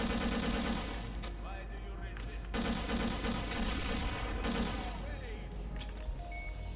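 Dense bursts of rapid gunfire from the game Counter-Strike: Condition Zero Deleted Scenes crackle almost nonstop, machine-gun rattles overlapping with single shots, loud and busy throughout.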